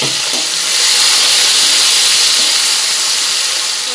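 Onion, ginger, garlic and tomato spice paste hitting hot oil with whole garam masala, giving a steady, loud, close hiss and sizzle that holds evenly throughout with no talking.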